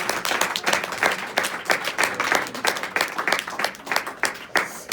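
Audience at a live hypnosis stage show claps in a dense, steady round of applause lasting several seconds, with loud overlapping hand claps filling the room.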